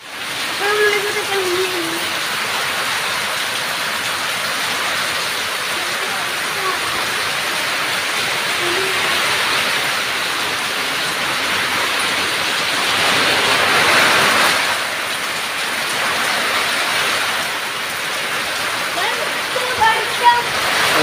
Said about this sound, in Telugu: ఈ కొండగట్టులో వర్షం చాలా విపరీతంగా పడుతుంది